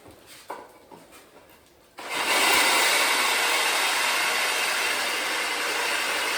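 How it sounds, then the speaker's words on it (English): Core drill grinding into tile with water: after a couple of seconds of quiet handling knocks, a loud, broad, steady abrasive hiss starts and continues alone. "when you're close, just go a little bit in a circular motion with your drill"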